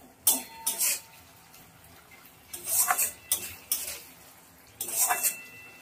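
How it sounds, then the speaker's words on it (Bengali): A spoon stirring and scraping spice masala in a metal pan over low heat while cooking a raw-banana kofta, bursts of clinking and scraping coming in several short bouts between quieter pauses, close by. "ভালো করে নেড়ে নেড়ে মশলাটা কষিয়ে নেব।"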